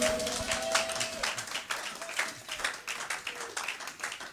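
A church congregation applauds to acclaim Jesus, with dense, sustained clapping that swells and eases at moderate distance.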